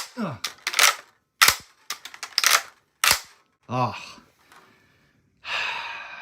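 An HK-53 rifle's action being worked up close, a run of crisp metallic clacks and snaps in quick bursts, with short breathy pauses and a soft sliding scrape near the end.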